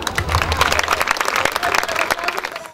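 A crowd at a binational beauty pageant claps loudly and continuously, a dense, even patter of many hands that fills the whole moment.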